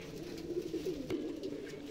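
Madrasi pigeons coo softly nearby, low rolling throaty calls repeating over a quiet background hum, with no voices heard.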